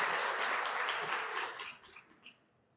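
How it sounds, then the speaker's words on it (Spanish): Applause from an audience at a medical talk, soft and somewhat distant, steady for about a second and a half before thinning into scattered claps and dying away. "aquí un aplauso para ustedes"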